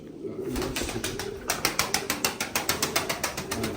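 Flying pigeons coo in a steady, rhythmic run of throaty pulses, close by and moderately loud, with no one talking.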